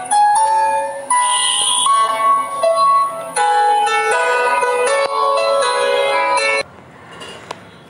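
A simple countdown timer app's alarm rings from a phone, a bright, steady tonal chime with bell-like overtones sounding continuously for several seconds before cutting off, followed by faint room noise.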